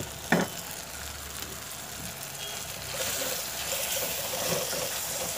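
Chili, turmeric and coriander powder masala sizzles in hot oil for garlic kuzhambu, a steady close frying hiss with one sharp clink near the start and brief stirring scrapes.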